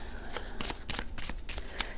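Tarot cards being shuffled by hand, a run of crisp riffling bursts repeating about every quarter second, close and clear with no talking.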